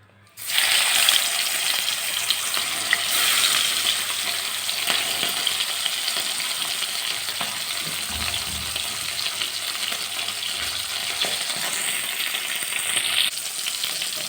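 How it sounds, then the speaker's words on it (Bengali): Oil bursts into a loud continuous sizzle as fish is added, crackling steadily throughout with a few soft knocks. "বাকি মাছগুলো ভেজে নেবো"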